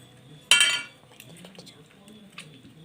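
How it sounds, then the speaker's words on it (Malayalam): Small tomatoes being crushed with a ladle in a pot while cooking a baby tomato and prawn curry: one sharp clattering metal-on-pot burst that fades within half a second, followed by faint scattered clinks and quiet background murmur. "ഈ തക്കാളി ഒരു തവി എടുത്ത് ഈ തക്കാളിയും വെച്ച് അമ്മയ്ക്ക് ഇതൊന്ന് പൊട്ടിക്കണം"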